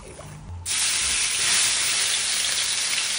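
Garlic and onion hit hot oil in a pan for menudo, a sudden loud sizzle that snaps on and then holds as a steady, bright hiss.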